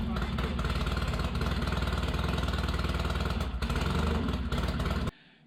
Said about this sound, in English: we just got the bike running for the very,